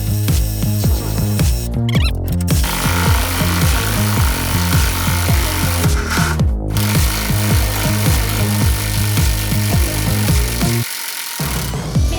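A Ronix 280 Nm impact driver drives a 160 mm lag screw, a loud rapid hammering rattle with a rising motor whine that runs continuously before stopping near the end.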